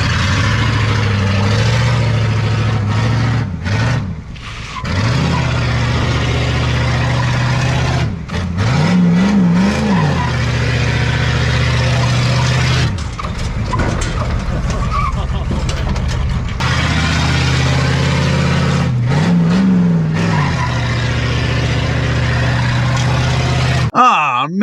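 A 7.3 IDI diesel garbage truck with the muffler deleted revs hard and loud in repeated bursts, rising and falling, with a steady low rumble between the revs and no talk over it.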